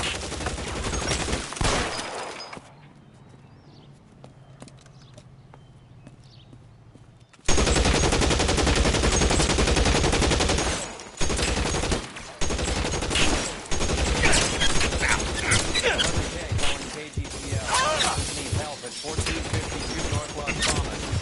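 Heavy gunfire in L.A. Noire, dense rapid bursts and volleys of shots filling most of the stretch, broken by a brief quieter lull near the start, with voices talking amid the shooting.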